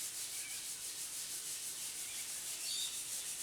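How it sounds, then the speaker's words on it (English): Rubbing compound is worked by hand over a sanded shower pan surface to remove fine sandpaper scratches, making a steady, faint, hissing rub with a soft back-and-forth rhythm throughout. "I'm now using rubbing compound just to take the last of the scratch marks from the sandpaper out"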